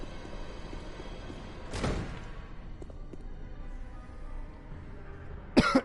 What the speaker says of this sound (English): Excuse me, I've been holding that cough in the entire intro.